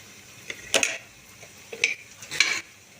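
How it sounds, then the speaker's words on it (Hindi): Garam masala is stirred into aloo keema in a pot: three or four short scraping strokes of a spoon against the pot over a faint sizzle, close and fairly quiet, with no voices. "और अच्छी तरह से हिला लेना है और मिक्स कर लेना है।"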